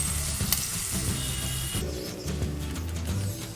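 Butter mushrooms and sliced capsicum sauté in a pan, giving a steady close sizzle with light scraping from stirring, backed by soft low tones throughout.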